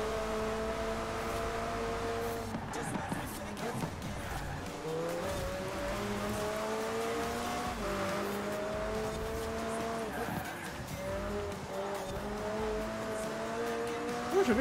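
A McLaren race car driven in the video game Forza Horizon 4, its engine revving and shifting through rising and falling pitches, with tire squeal and skids over a continuous loud roar.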